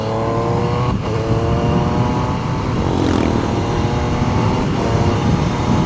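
A 2026 Triumph Trident 800 motorcycle with its stock exhaust revs close by, holding a loud steady engine roar with a few sharper throttle blips over several seconds, no voices.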